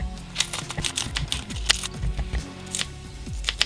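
Green onion chopped with a knife on a board for loaded potato skins, giving quick uneven taps and crisp slicing clicks, close and steady, with no voices.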